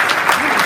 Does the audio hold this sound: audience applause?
yes